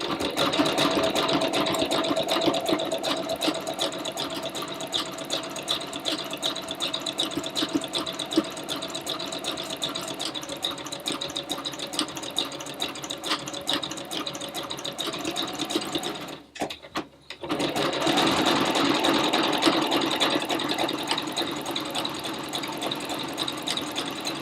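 A sewing machine fitted with an overcast presser foot stitches in a fast, continuous whirring rattle close by, breaking off briefly partway through before running steadily again, with no voices.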